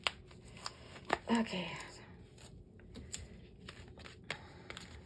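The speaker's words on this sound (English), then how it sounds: "I'm going to get my ribbon off of here" Taped ribbon peeled off a plastic holder at close range, heard as short crinkly tears and scratchy handling rustles, with one brief spoken word over it.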